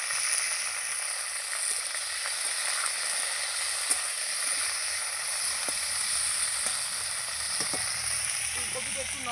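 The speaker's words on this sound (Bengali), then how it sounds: "ফুলকপিটা আমি লাল লাল করে ভেজে নেব" Cauliflower fries in oil in a wok with a steady, even sizzle and hiss, broken now and then by faint clicks of stirring.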